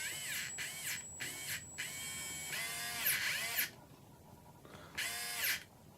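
A Tacklife PCG01B mini rotary tool motor whines in short bursts, with its pitch sweeping up and down as it speeds, bogs and stalls, then drops out between runs. Near and fairly clear, with no talking.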